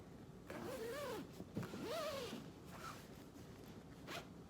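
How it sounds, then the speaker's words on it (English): A zipper runs closed along a fabric bolster pillow cover in a few quick pulls, close and clear, with short pauses between strokes and no talking. "This is going to make zipping it up so much easier."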